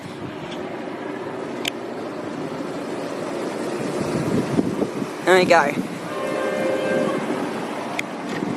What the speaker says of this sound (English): I'll get a view of the beer festival train as it heads down to Humphrey Street